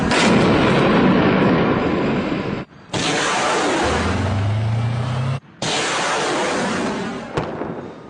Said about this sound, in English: We've heard the sound of gunfire, drones overhead, and coalition airstrikes every few minutes